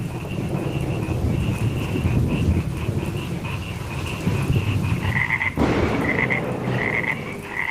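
Frogs croaking loudly and continuously beside a village canal on a stormy rainy night, a dense pulsing chorus over the hiss of rain, with a low rumble of thunder partway through.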